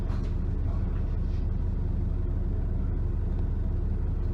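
A Dennis Trident double-decker bus on route 15E rumbles steadily from an onboard position, its deep engine drone and road noise constant throughout with faint cabin rattles and no talk.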